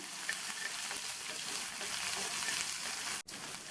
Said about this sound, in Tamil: இந்த வெங்காயத்தை லேசாக வதக்கி விட்டால் போதும்